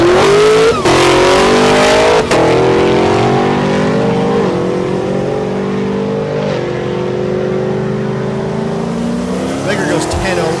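Drag race cars, one a Silverado, launch side by side down the strip at Thunder Valley in Noble, Oklahoma, with loud engine roars rising in pitch through several gear changes, then fading as they pull away, with a voice talking over the noise.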